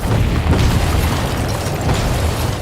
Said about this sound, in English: Kyle finally gets the drop on Max and Bobby and bombs their hideout.